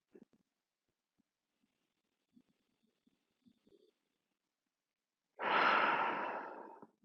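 Slow, deep meditative breathing, a few soft faint breaths and small rustles followed by one long, loud, airy exhale close to the mic near the end.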